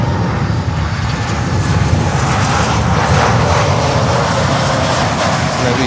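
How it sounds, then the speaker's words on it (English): American Airlines Boeing 737 MAX 8 jet airliner inbound at Miami airport, a loud, steady engine roar close by that fills the whole short stretch with no pauses. "Next inbound is the 737 MAX 8,"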